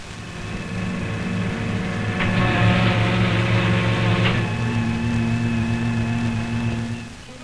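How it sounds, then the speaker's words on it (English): A 200-ton hydraulic press compacts nuclear fuel pellets with a steady mechanical drone and a layered machine hum. A brighter hissing surge rises in the middle and then falls back to the constant whir. "The mixture is then compacted into pellets of specific size on a 200-ton hydraulic press."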